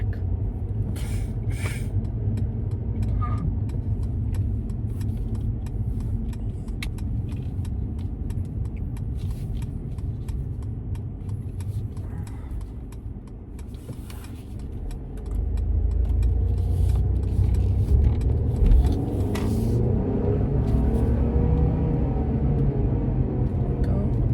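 A facelifted Mercedes W213 E-Class cruising on the road, with a steady low rumble of engine and tyre noise, a few light rattles and clicks inside the cabin, and the drone swelling as the car picks up speed.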